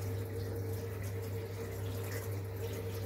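Tap water running while a gas water heater is tested, a steady continuous flow with a strong low hum from the heater underneath, unbroken throughout.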